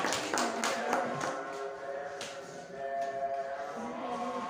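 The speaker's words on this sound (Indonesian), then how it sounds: "sekali lagi tepuk tangan untuk kelompok 4" Classroom applause for a student group: scattered, fairly faint hand clapping from a small crowd of students, steady for a few seconds with light background voices.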